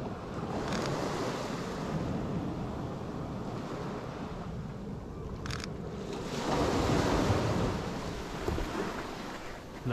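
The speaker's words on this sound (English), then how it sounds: "Ah, there's the waves." Ocean waves rolling onto a shore, a broad continuous wash that swells louder toward the end, with wind buffeting the microphone and no voices.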